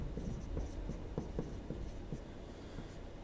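A pencil writes numbers on paper, giving soft, quiet scratching strokes in an irregular rhythm, close and faint, with no voices.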